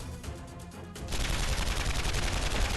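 Rapid gunfire from the fighting game Guilty Gear Strive, a dense, loud burst of shots that kicks in about a second in and sustains steadily, following a quieter stretch of game sound.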